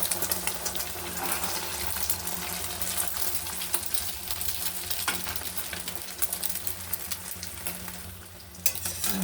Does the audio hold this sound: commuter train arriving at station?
no